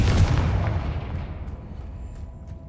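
A Confringo fire-blast spell cast in the Hogwarts Legacy video game, a single heavy booming explosion that hits loud at the start and then rolls off into a long decaying rumble, with no talk.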